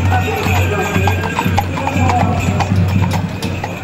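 Trait du Nord and Boulonnais draft horses clip-clop along a paved road during a festival parade, their hooves ringing in a steady, overlapping rhythm close by, with background crowd noise and a low droning hum.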